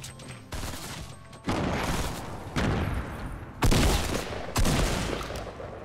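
Gunfire in the video game Fortnite, a handful of sharp, loud shotgun and pistol blasts spaced about a second apart, each trailing off into a short ringing decay.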